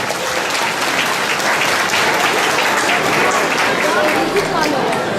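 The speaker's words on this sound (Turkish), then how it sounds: "Axund Mirsey Səkəriyavanın danışıqları üçün özünü alqışlarınıza dəvət edirəm kürsüyə buyursun inşallah" Dense applause from an audience at a religious foundation gathering, steady and loud throughout as a speaker is welcomed to the podium.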